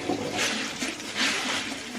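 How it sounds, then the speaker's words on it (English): One cup of rice and half a cup of lentils rinsed together in water, a continuous close rushing and sloshing of water that swells twice over two seconds. "So I'm going to wash these together."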